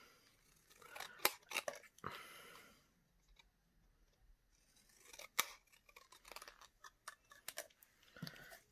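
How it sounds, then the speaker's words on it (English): Scissors cutting through card stock for a folded paper craft project, a quiet series of crisp snips and crunching blade closures in irregular clusters with short pauses, close and alone. "and then take my scissors,"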